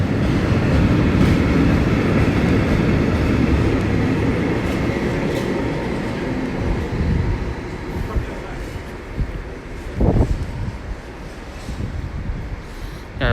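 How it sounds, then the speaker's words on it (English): A Network Rail Class 37 locomotive arrives at Newport station, a loud continuous rumble and rolling clatter of wheels that builds up close, with a few brief sharp knocks toward the end. "There's that Network Rail Class 37 coming in."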